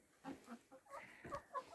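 Heavy roosters and hens cluck softly at close range in a backyard coop on their first night after moving, short quiet calls in a low-level recording.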